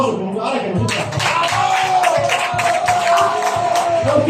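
A crowd in a bar at a birthday party claps and cheers loudly and steadily, with shouts and rhythmic clapping mixed with voices throughout.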